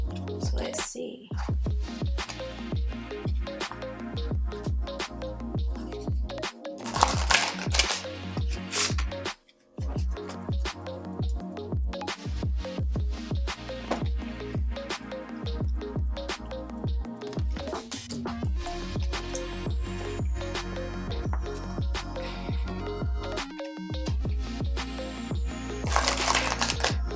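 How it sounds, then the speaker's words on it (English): Large oracle cards are shuffled continuously at close range, giving a dense stream of soft riffling, sliding and slapping sounds with brief pauses, under faint background music. "So I'm just going to shuffle the cards. These cards here are a little bigger."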